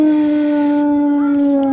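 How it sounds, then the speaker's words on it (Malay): Dogs howl in a long, steady, mournful tone with overlapping voices, loud and close, sustained throughout without a break. "Suara lelongan anjing kedengaran bersahut-sahutan."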